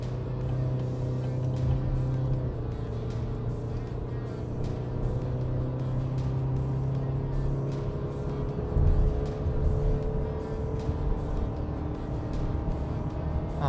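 A Chevy truck with the 2.7 TurboMAX engine accelerates at full throttle on a highway, a steady engine drone rising in pitch inside the cab with road noise underneath.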